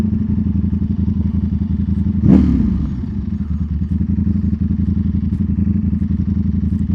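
Ducati Panigale V4 superbike exhaust burbling loud and close in a steady throbbing idle, with a sharp blip of revs around the two-second mark then settling back to a rumble beside roadside barriers.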